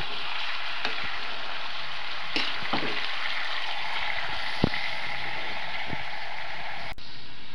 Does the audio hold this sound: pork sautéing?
yes